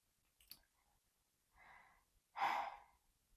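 A person breathes deeply during a tongue stretch for voice work: a short breath, then a soft inhale and a louder, airy exhale, all close and quiet with silence between.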